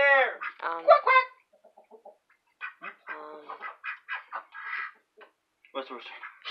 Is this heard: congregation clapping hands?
no